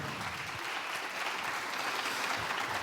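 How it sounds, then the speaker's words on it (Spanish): Steady applause from an audience at an ambassadors' panel discussion, honoring Raúl, a dense continuous wash of clapping hands filling the moment with no talk over it. "Otro aplauso a Raúl"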